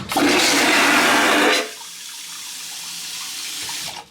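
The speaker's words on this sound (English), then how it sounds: "don't rush to flush, but we're going to flush here" A cruise ship balcony cabin toilet flushes with a loud, close vacuum whoosh lasting about a second and a half, then cuts off abruptly into quiet room tone.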